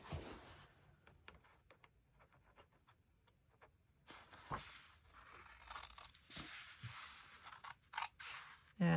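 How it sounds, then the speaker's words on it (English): Scissors snip through a paper kit sheet, free-cutting it down the middle along a crease, giving a run of quiet, close crisp cuts and rustles, with busier handling noise in the second half. "I'm gonna grab my scissors, and we're just gonna free cut it down the middle"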